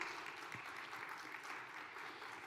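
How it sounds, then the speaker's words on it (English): A conference audience applauds the center's staff during a keynote session, a steady, even wash of many hands clapping, fairly faint and distant, with no talking over it. "I think the staff here at the conference center deserve a round of applause."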